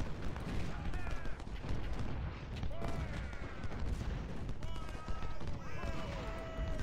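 Artillery shelling rumbles through a Civil War battle game, with dense booms and crackling fire layered under a voice talking over the din.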